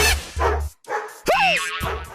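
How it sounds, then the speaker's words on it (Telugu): A dog barks close and loud several times in quick succession, with a yelping, rising-falling bark in the middle, in a television serial scene. "కుక్క"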